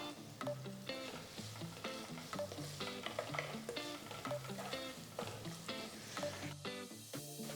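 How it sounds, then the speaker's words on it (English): Finely chopped onion frying in a pan with curry leaves and cashew nuts, quiet sizzling broken by frequent rhythmic stirring clicks and scrapes. "To this add 1 onion finely chopped"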